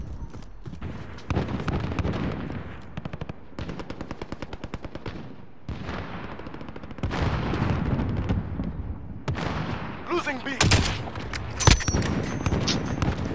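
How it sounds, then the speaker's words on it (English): Cluster strike explosions in the video game Modern Warfare, heard as rapid, rattling bursts of detonations in several waves, with louder sharp blasts near the end. "Enemy cluster strike incoming."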